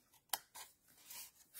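Scissors snip through scored, burnished paper tabs on a papercraft explosion box, with one sharp close cut followed by a couple of softer, rasping slices.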